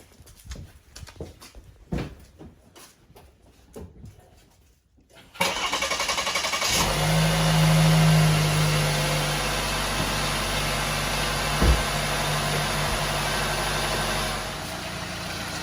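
A 2019-2021 Chevrolet Blazer cranks and fires up, then settles into a loud steady idle close by with a brief blip partway, after a few seconds of quiet rustling.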